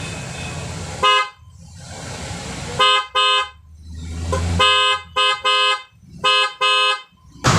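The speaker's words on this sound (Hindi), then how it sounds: "दोस्तों अब मैं आपको दोनों हॉर्न चला कर दिखाता हूँ।" Repaired car horns sound in a series of short, loud honks of varying length, close by, with quieter background noise between blasts.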